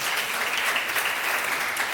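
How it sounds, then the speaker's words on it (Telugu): Congregation clapping together during a Sunday church service, a dense, steady wash of applause that fills the whole moment without pause and with no voices over it. "ఇప్పుడు చప్పట్లు పడదాం."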